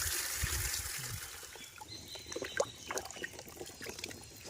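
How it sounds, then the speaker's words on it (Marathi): Sapodilla (chikoo) fruits are rinsed in water, with pouring, trickling and splashing sounds that are loud at first and then settle into lighter, scattered drips and sloshes. "इथे चिकू धुवायला लागले"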